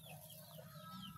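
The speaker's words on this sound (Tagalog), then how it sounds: "Yan, mga manok ko. Inahin ko." Hens and a rooster in a Filipino backyard flock cluck softly and steadily, a close, low murmur of several birds with no talk.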